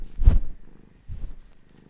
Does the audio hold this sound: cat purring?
yes